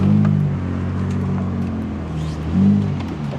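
A BMW E46 convertible drives with its top down, its engine giving a steady low drone that swells briefly near the start and again toward the end, with road and wind noise throughout.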